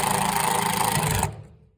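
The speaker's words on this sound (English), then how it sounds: "And I use a 1/2-inch drive impact." A battery-powered 1/2-inch drive impact driver runs loud and steady while driving a screw into a floor for a threshold plate, then stops abruptly and falls silent.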